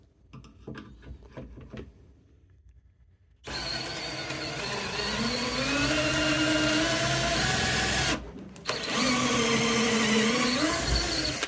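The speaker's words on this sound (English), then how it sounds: "now I'm using my pocket drill to just put some pocket holes in" A few light clicks, then a pocket hole drill whirs into wood for a compost bin with a steady, rising and falling whine, pausing briefly before spinning up again.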